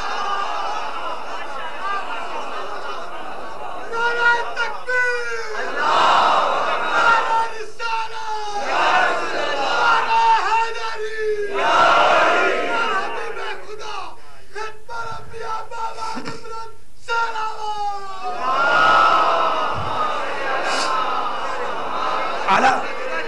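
A crowd at a Shia majlis in Safar chants religious slogans in loud unison bursts. Many voices rise together in repeated rhythmic waves with short gaps between them.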